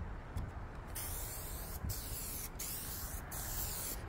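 An aerosol can sprays paint onto car interior plastic pieces in long, continuous hissing bursts separated by brief gaps, close and steady, with no talking.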